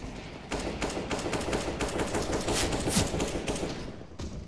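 Rapid automatic gunfire from the CS:GO shooter game, including an M4A rifle, crackling in dense continuous bursts for the whole stretch, with sharper loud shots near the end.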